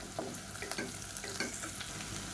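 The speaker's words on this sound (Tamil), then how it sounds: "இப்போ வெங்காயம் நல்லா வதங்கிடுச்சு" Sliced onion sautés in hot oil in a pan with salt for tomato rice, a steady sizzle broken by repeated scraping stir strokes, close and fairly quiet, with no voices.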